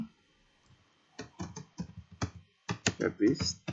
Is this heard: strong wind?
no